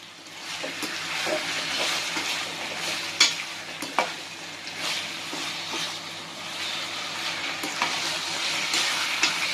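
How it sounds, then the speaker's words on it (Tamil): Spicy chicken roast frying in a pan, a steady sizzle broken by spoon scrapes and a few sharp clacks as it is stirred, close up with no talking. "இதை நல்லா கிண்டி விட்டுக்கலாம்."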